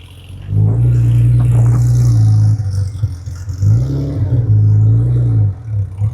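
A Porsche 911 passes close by with a loud, deep engine rumble that swells, dips briefly and swells again as it goes, with no talk over it.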